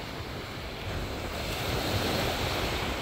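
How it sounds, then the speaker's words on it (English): Sea waves wash onto a shore near high tide, making a steady broadband rush that grows slightly louder over a few seconds, mixed with wind noise and no talking. "You can see the sea comes into here, so we're not full high tide here."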